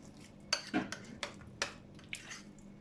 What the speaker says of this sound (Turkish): 1-2 yemek kaşığı kadar zeytinyağını harcımızın içine koyup güzelce karıştırıyoruz